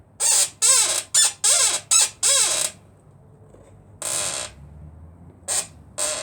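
A bicycle squeaks loudly and close in a quick irregular series of six, then a pause and three more scattered creaks, each with a sharp rising whine.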